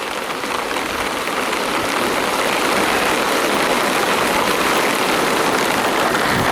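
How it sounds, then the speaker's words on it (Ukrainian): Heavy rain pouring steadily in Dnipro, a dense continuous hiss of drops on surfaces, loud and unbroken, with no voices over it. "Дощик іде, такий дебелячий."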